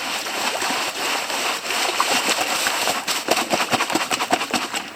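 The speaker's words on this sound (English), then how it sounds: "Wash the bottom gravel." Water pours and splashes over gravel being washed in a sieve while searching for sapphires, a continuous close rushing wash with irregular splashes that grow choppier toward the end.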